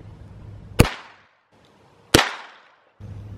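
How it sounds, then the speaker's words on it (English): Two sharp, loud cracks from a Walther P22 pistol firing .22 Long Rifle rounds at stacked tires, spaced over a second apart, each followed by a brief fading echo. "I'm gonna shoot it with the Walther P22."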